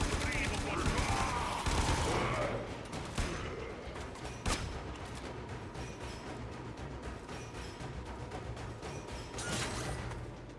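Bolt Horror weapon firing in a video game: sharp rapid volleys of shots, loudest early and then trailing into scattered cracks over game noise, with a voice speaking underneath.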